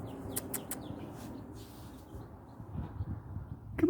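Baby chicks give a few faint, high, quick peeps early on, then a low rustling bed of soft noise with a brief chirp at the end.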